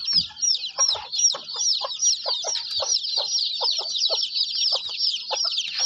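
A crowd of desi village chicks peeps continuously at close range, a dense, high chorus of overlapping cheeps with a few lower clucking notes mixed in.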